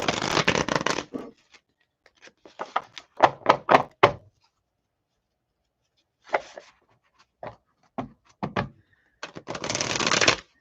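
Tarot cards are shuffled and handled in several crisp bursts of riffling and tapping, separated by short silences, close and fairly loud.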